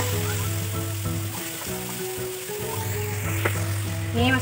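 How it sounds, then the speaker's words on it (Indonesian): Ground spice paste for Indonesian soto ayam sizzles and crackles steadily as it is sautéed in hot oil, with a bright continuous fry close by and occasional stirring clinks. "Kita masukkan bumbu halus nih, bumbu halus ya. Bumbu halusnya tumis."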